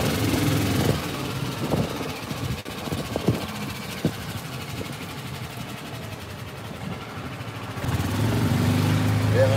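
A golf cart drives along with a steady motor drone and rattling. The drone is louder at the start and end, with scattered clicks and thumps in between.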